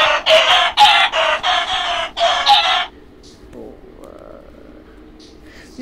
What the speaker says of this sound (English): These chickens are literally attacking.